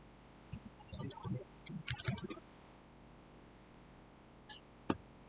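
Computer keyboard keys and mouse buttons click in quick irregular bursts while working in a Microsoft database program, close and fairly quiet, with a lone click near the end and no talk.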